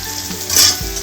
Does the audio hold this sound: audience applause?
no